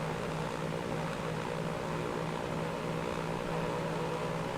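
Steady, loud piston-propeller drone of a DC3 Dakota aircraft engine in the Transport Fever video game, an unbroken hum with a faint pulsing tone and no talking.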